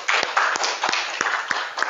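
Students in a classroom clap their hands in a quick rhythmic pattern, about eight sharp claps over two seconds, close and fairly loud, with a faint voice underneath.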